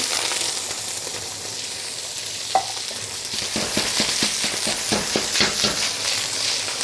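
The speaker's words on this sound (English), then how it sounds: "I'm gonna start by frying the thick, hard parts of the vegetable first." Vegetables sizzle and hiss in hot oil during a Chinese stir fry, with a sharp clatter and then rhythmic scraping taps of stirring against the pan.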